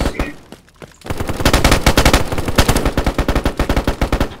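Automatic gunfire shooting through a wall in the video game DayZ, a loud, rapid burst of closely spaced shots that starts abruptly after a brief lull and keeps hammering steadily to the end.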